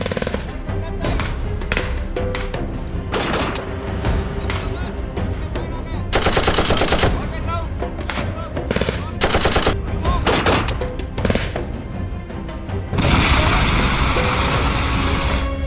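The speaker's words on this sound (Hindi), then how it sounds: "एक दुश्मन की पोस्ट से हमारी तरफ फायर आया।" Gunfire from an enemy military post at night during a cold mountain infiltration: loud, rapid bursts of automatic fire and single shots crackle close by in uneven volleys, broken by short gaps.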